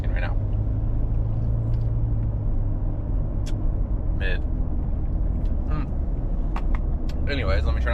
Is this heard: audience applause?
no